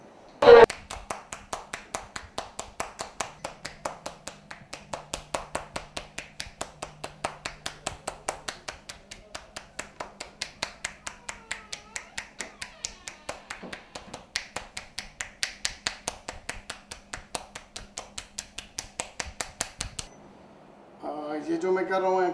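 One hand snaps out rapid, steady one-handed claps, a long crisp run of sharp pops at an even rhythm lasting about twenty seconds before stopping, close up and alone.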